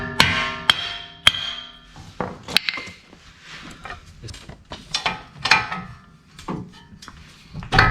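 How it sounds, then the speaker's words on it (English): Sharp metallic copper hammer blows on a CV shaft ring out at irregular intervals, a dozen or so strikes with clanging resonance and some mechanical rattling between them, close and loud. "use a soft blow or a copper hammer"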